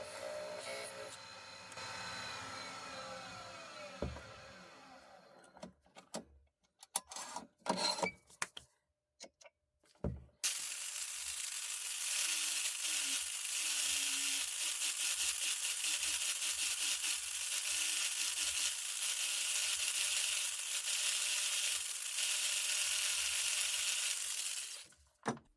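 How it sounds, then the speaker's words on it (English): An angle grinder smooths leftover wood on the bottom of a small turned vase, starting after a few clattering handling noises and then running as a loud, continuous, close whine for about fifteen seconds. "use an angle grinder to smooth the leftover"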